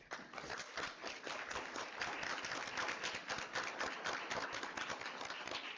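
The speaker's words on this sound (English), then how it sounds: "So let's give these fabulous leaders, community leaders, a round of applause." A round of applause for community leaders at a school district board meeting: many hands clapping in a brisk, continuous patter at moderate volume, with no one speaking.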